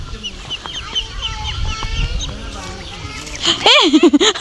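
A flock of ducks and ducklings quacks and chatters nearby while a person calls out loudly over them near the end.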